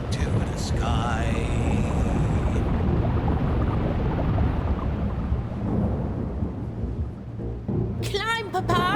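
A thunderstorm at sea in the video game Another Fisherman's Tale, with dense roaring rain, wind and rumbling thunder sustained loudly throughout, and brief narration-like voices and music tones over it at the start and end.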